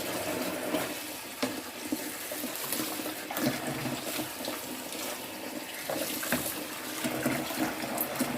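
Tap water runs steadily into a kitchen sink during washing up while making basbousa with cream, a continuous close wash with faint splashes and no talking.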